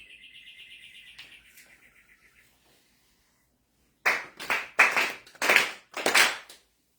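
A congregation at a monthly religious service claps hands together four times in unison: four loud, sharp, evenly spaced claps from a group in a quiet room, after a faint high tone fades out.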